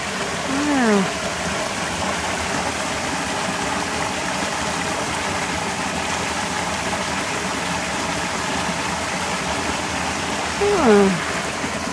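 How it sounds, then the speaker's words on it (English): A small waterfall spilling over rocks near a creek in Paint Bank, Virginia makes a steady, broad rushing wash throughout, with brief voices breaking in at the start and end. "Ah, it's a waterfall."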